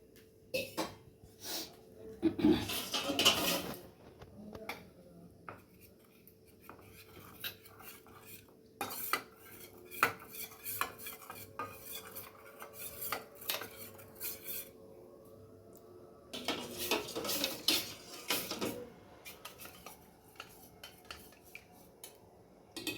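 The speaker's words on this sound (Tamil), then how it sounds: "பால் ஊற்றி நல்லா கிண்டினது" A spoon stirs milk and custard powder in a pan, scraping and clinking against the metal in a steady, uneven rhythm. There are occasional louder clatters and a faint cough in a quiet kitchen.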